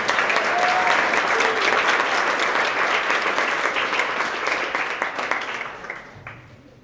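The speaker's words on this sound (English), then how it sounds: "Another round of applause for all of our science winners." Loud, dense clapping from a school assembly crowd honoring middle school science award winners, steady for several seconds before tapering off toward the end.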